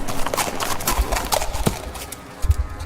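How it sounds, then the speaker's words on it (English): Horse hooves clip-clop on hard ground in a steady walking rhythm, moderately close, with a heavier thump of hoofbeats near the end; no talking. "hearing the horse hit his hooves on the ground"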